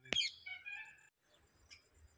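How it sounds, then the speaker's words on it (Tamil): A crow gives one sharp, harsh call near the start, its ringing tail fading over about a second, followed by quiet outdoor background with a faint later chirp, in a city where bats roost in trees. "அது காக்கா பார்த்தீங்களா"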